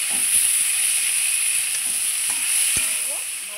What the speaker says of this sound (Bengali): আমি একটা টমেটো ছোটো ছোটো করে কেটে নিয়েছি, এটা দিয়ে দিলাম। দিয়ে আবার একটু ভালো করে ভেজে নেব।